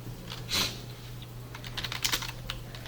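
Fingers tap on a computer keyboard in a quiet room, soft clicking keystrokes with a brief flurry near the start and scattered taps later, all against a low steady hum.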